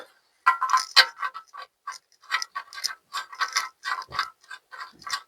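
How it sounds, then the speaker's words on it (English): Sump plug being threaded and tightened into the oil pan of a Ford Transit during an oil service, a close run of quick metallic clicks and ratcheting ticks in irregular bursts, with no talking. "Make sure there's all the old oil is off here, and install your new sump plug."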